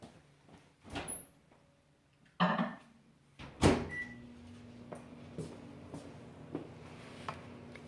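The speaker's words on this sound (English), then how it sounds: "so let's microwave this really quick" A kitchen microwave oven is started and runs, with a door clunk and button beeps followed by a steady low hum and faint intermittent ticks.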